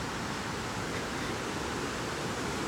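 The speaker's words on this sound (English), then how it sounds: "It's the waterfall." Waterfall beside a wooded trail in Delaware County, Pennsylvania, pouring in a steady, dense broadband rush that stays loud and unbroken from start to finish, with no voices over it.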